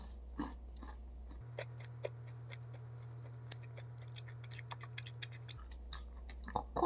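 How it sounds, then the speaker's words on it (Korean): Crunchy bites of a rice-syrup snack made with almonds, coconut and organic sugar, chewed close up in scattered crisp clicks and crackles over a steady low hum, with no talking. "요거를 뿌셔서 넣기 전에 한 입"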